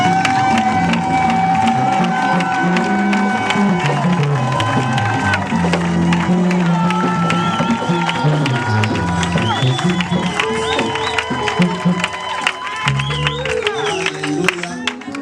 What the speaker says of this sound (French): Montre au voisin en acclamant de votre présence